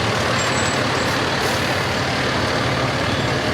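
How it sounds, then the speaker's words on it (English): A new fire truck from a fire department rolls through a Christmas parade, its engine a steady, loud rumble and hiss that holds without a break. "It looks like someone's got a new truck."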